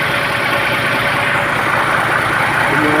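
A steady, rough truck engine idle runs continuously at close range, a constant mechanical rumble with no talking.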